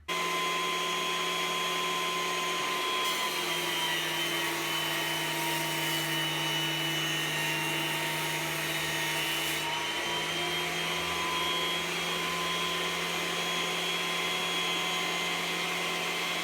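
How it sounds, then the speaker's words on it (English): A Hafco T-13S thicknesser planes timber with a steady, even machine drone and a faint whine, running close and unbroken for the whole stretch with no talking. "the cutting action on this machine is incredibly quiet"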